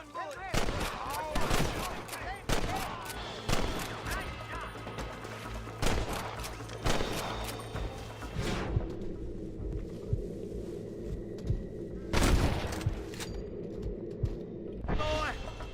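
Gunfire in Red Dead Redemption: sharp, loud shots going off irregularly, some in quick clusters and others spaced out, with spoken voices in between and a heavy blast near the end.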